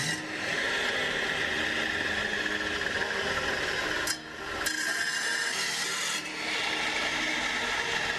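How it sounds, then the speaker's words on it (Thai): A conch shell is filed and shaped by hand into a small lure for a squid trap, giving a steady, close rasping scrape that runs almost continuously, with a couple of brief pauses between strokes. "เพียงแค่การนำหอยสังมาตกแต่งให้ได้รูปทรง ขนาดเล็กและเหมาะสม"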